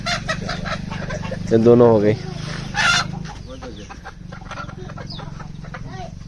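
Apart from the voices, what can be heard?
chickens clucking after being caught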